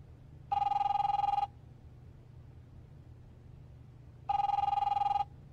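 In The Wolf Among Us video game, a telephone rings twice, each ring about a second long, separated by a long pause over a low background hum.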